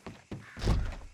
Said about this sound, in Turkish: Hop dedik kapıyı açmıyor.